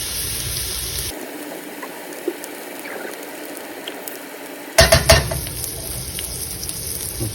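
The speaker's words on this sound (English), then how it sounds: "put a little bit of oil on it real quick. And let that sear in there real good" New York strip steak sears in oil in a pan, a soft steady sizzle broken by a brief quieter stretch before louder crackling and clattering resumes.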